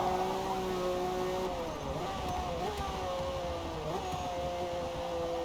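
A Ferrari V6 engine in a racing video game holds a steady loud drone with a few gear-shift dips in pitch, running continuously at close range.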